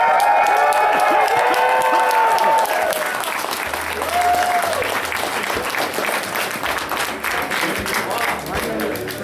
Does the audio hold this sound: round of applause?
yes